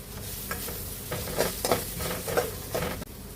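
Ginger garlic paste and green chilli sauté in a hot pan for an egg curry, sizzling steadily while a spoon scrapes and stirs in short repeated strokes.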